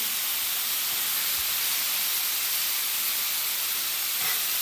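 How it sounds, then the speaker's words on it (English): Food pieces sear on a Blackstone griddle, giving a loud, dense, unbroken hiss that stays even from start to finish, with no voices. "We're gonna make sure it gets all even on the Blackstone, just so every piece gets seared."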